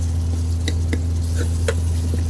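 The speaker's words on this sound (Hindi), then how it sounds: "और ये मसाला भूनिए।" Tomato-based masala frying in a pan, a soft steady sizzle over a low constant hum, with a few light stirring clicks and scrapes.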